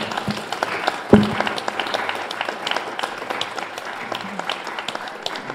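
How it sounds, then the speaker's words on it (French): A conference audience applauds after a panel discussion on democracy: a steady patter of many hands, with one sharp louder clap near the start, continuing evenly throughout. "Je crois que vous pouvez les applaudir,"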